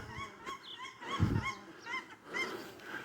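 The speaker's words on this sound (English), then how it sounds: "Oh, some ducks." Ducks calling outdoors, a series of nasal, honking calls repeating at a moderate distance over steady outdoor background noise, with a louder low thump near the middle.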